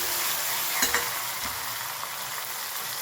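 Steady, soft sizzle of a dal tempering, with cumin and asafoetida frying in hot oil, close up with a light stir or two and no talking.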